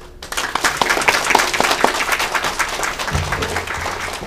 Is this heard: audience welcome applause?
yes